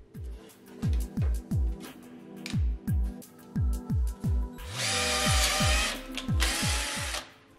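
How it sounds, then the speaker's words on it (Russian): A Rokodil Twist 2 Pro impact driver in drilling mode fires in a quick series of short spin-up bursts, then breaks into a loud, rattling hammering run before stopping. "Далее протестируем режим сверления."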